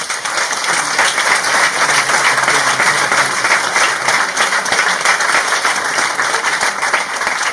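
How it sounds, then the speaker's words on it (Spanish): A lecture audience at a psychology faculty applauds a research group. The clapping is loud, dense and sustained for over seven seconds with no break. "que deis un aplauso grande y fuerte al grupo de investigación de la doctora Oltra"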